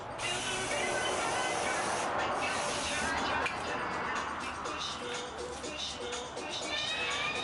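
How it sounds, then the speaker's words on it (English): Brake cleaner sprayed from an aerosol can onto brake caliper parts of a 1992 Toyota Camry 2.2L: a loud, close, continuous hissing spray lasting several seconds, with brief breaks and faint mechanical clicks. "take the brake cleaner, start cleaning it off"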